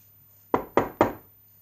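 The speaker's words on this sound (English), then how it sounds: "there was another knock on the door" Three sharp knocks on a wooden door, evenly spaced and close, with quiet before and after.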